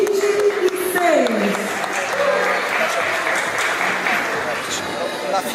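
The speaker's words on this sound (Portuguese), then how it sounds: "recebidos com uma calorosa salva de palmas" Audience applause at an academic diploma ceremony, a warm, sustained wash of clapping from a crowd that runs throughout, with voices and a tonal sound heard over it.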